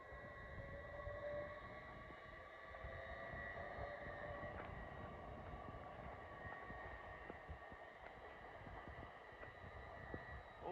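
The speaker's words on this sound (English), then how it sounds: "now finally departing 7 minutes late is going to be the delayed 1333 LNER Zoomer from Edinburgh Waverley to London King's Cross" An LNER Azuma class 801 train departs York station on the East Coast Main Line, a faint, distant electric hum with rising motor tones and low rumble as it pulls away steadily.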